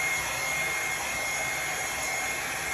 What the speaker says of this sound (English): use the blow dryer like I'm doing